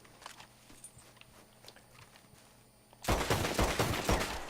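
Rapid pistol gunfire in Red Dead Redemption 2, fanned off quickly, comes as a loud burst of sharp, closely spaced shots after a few seconds of quiet ambience.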